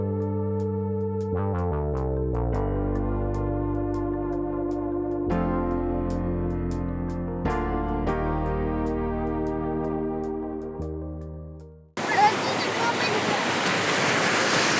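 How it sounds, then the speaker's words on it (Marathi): Large ocean waves surge and crash on a beach, a loud broadband roar breaking in near the end after a long stretch of music. "लाटा मोठे आहेत"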